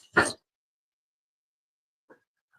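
A dog gives one sharp, close bark, followed by a long silence and a faint, brief second sound.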